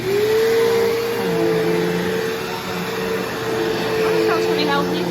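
A Bissell CleanView Revolution Deluxe upright vacuum cleaner runs in a living room, a steady loud motor whine with a shifting pitch, continuous throughout with brief faint higher tones near the end.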